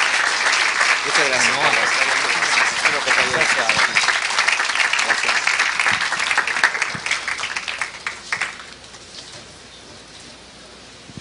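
A conference audience applauds at the end of a talk, steady dense clapping with someone speaking briefly over it, fading after about eight seconds into quiet room noise.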